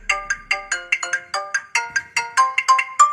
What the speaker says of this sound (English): What about custom ringtone?